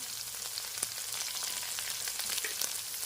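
Radish frying in a pan for a vegetarian dish hisses with a soft, even sizzle, fairly faint and continuous, with a few light crackles and no talking.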